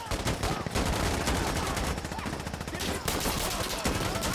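Pistol gunfire in the video game Insurgency Sandstorm, a rapid flurry of sharp close shots in quick succession, loud and nearly continuous throughout.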